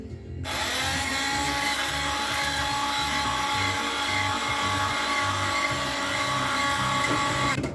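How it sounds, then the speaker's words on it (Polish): An electric hand mixer blends egg yolks for homemade mayonnaise, starting abruptly and then holding a loud, steady, close motor whine with a rattling undertone until the end. "Dobrze, mieszamy, miksujemy."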